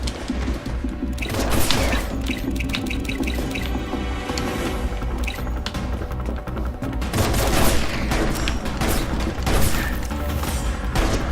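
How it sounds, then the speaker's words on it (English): Gunfire from the video game Final Fantasy XV: Episode Prompto, a steady dense run of shots with sharp transient peaks, louder bursts near the end, over a continuous bed of game music and ambience, with no talking. "How do I fire?"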